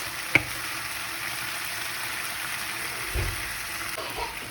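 A pan sauce for salmon with lemon juice, mustard and brown sauce sizzles softly on low heat, a steady faint frying hiss with a small clink near the start and a light stir later.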